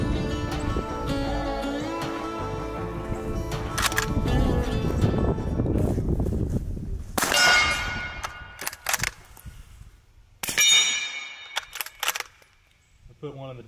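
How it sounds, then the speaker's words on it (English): A 300 Blackout bolt-action rifle fires through an OCL Lithium 9 suppressor, giving a few sharp, muffled reports spaced seconds apart, each with a ringing metallic tail. Steady background noise runs underneath. "let's check out the 300 Blackout bolt gun"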